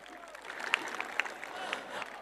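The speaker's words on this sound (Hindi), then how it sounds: "जोरदार तालियां हो जाएं" A crowd at a sports tournament final claps steadily with a few sharper claps standing out, moderately loud and continuous throughout.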